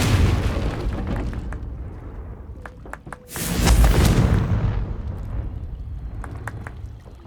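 Confringo blasting spell exploding in Hogwarts Legacy, a heavy booming blast that swells loud and broad for about a second, trailing into rumbling game ambience with scattered sharp pops and crackles before and after.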